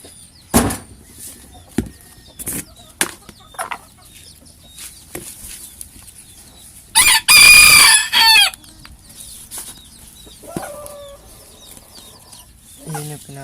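Bantam chickens cluck and squawk while being fed, scattered short calls and a burst of loud excited crowing and squawking in the middle, with a person talking softly nearby.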